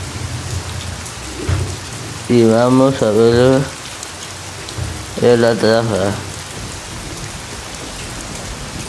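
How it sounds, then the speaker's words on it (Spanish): Heavy rain at night makes a steady, dense hiss throughout, with someone briefly speaking Spanish over it twice. "Vamos a ver la lluvia y mucho viento."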